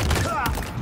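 Rapid bursts from the Heatwave gun in Halo Infinite multiplayer, loud and close, layered under excited player talk.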